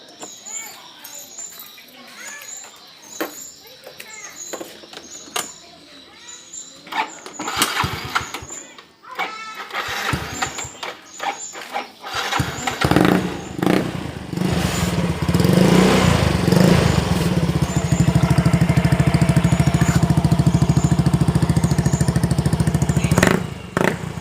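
Motorcycle fitted with a modified, hollowed-out bass exhaust, first heard through scattered knocks and clatter, then roaring loud and steady with a deep, continuous drone for the last several seconds.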